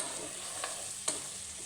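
Spices being stirred in a pot of haleem, a soft scraping stir with a couple of brief clinks against the pot over a low steady cooking hiss.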